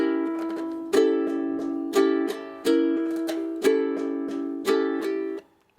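Ukulele strummed in an alternate rhythm for a song, with sharp accented strums falling roughly once a second and ringing chords between them, close and clear with no voice.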